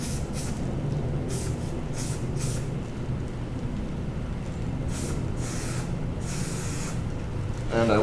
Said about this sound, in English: I will spray some on the inside lip just to make sure it seals against here